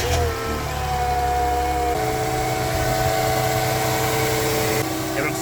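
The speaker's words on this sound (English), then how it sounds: "turn on the engine and see if it leaks" Mercedes M112 car engine idling after an oil filter housing gasket repair, a steady mechanical hum with a slight shift in pitch partway through, running alone without talk.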